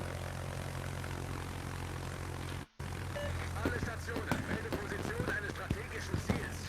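Carrier aircraft engines in the World of Warships naval video game, a steady droning propeller hum that fills the whole clip, broken by one brief dropout, with scattered game effects and a voice talking over it.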